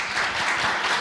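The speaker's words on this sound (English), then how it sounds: "but first a big applause." Audience applause after a conference talk, a dense, even wash of many hands clapping for a brief moment.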